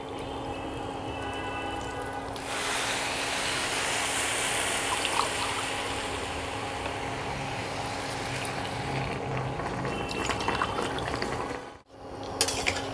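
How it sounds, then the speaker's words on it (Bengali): Water pours steadily into a pot of rice for cooking, a continuous close rushing fill lasting several seconds, punctuated by a few clinks and a short pause near the end. "এবার আমি দিয়ে দেব জল।"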